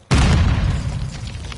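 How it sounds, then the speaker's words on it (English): A grenade explosion in the shooter Modern Warfare 2, a single sudden, loud, close boom with a heavy low-end punch that decays into a rumbling tail. "Grenade!"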